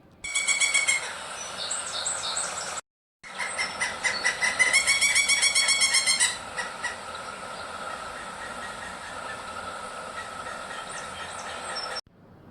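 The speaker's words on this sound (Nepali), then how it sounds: "काठफोरा" A woodpecker, called kathphora in Nepali, gives a loud, close series of repeated harmonic call notes. After a short break the calls start again, then fade into a faint, steady background.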